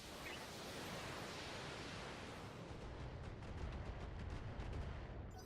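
Mech weapons firing in the BattleTech video game, a dense, continuous roar of loud barrage fire and rumbling blasts with rapid crackling impacts toward the end.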